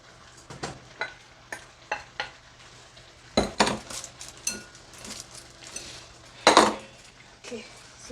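Ingredients being added to a goat meat and cabbage stew and stirred in a pot, with repeated clinks and scrapes of a utensil against the pot over a soft simmer and two louder clatters.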